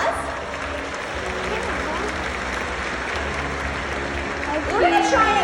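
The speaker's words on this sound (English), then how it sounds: "You can give them both a round of applause." A SeaWorld show crowd claps steadily for two performing animals, a broad wash of applause with voices mixed in that swells slightly toward the end.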